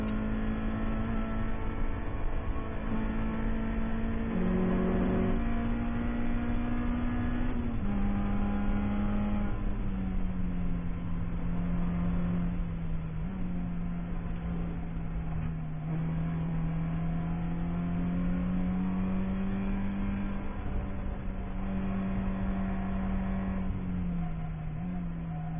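Onboard engine of a Subaru BRZ race car in an endurance race at Barber Motorsports Park, a loud continuous drone that holds fairly steady, with slight pitch dips and climbs through shifts and corners.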